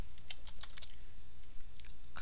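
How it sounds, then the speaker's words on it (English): Computer keyboard typing sounds as a run of quick, irregular key clicks at close range over a faint background hiss, with no talking. "I was typing in color."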